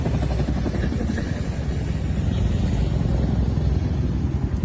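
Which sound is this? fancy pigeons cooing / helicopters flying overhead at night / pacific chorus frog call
helicopters flying overhead at night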